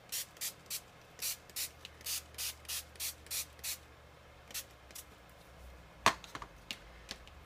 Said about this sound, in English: I'm just going to spray this